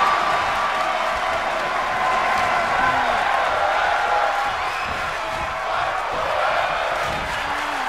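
A wrestling crowd roars and cheers continuously, a dense wash of many voices holding steady throughout with no pauses.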